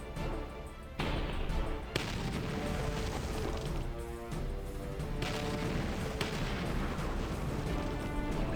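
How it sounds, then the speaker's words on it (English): Artillery firing in the video game Battle Nations, with heavy booming blasts roughly every second over a continuous rumbling battle bed, fairly quiet overall. "Guy with the artillery in the back, you know, raises his hand way up before hitting the button."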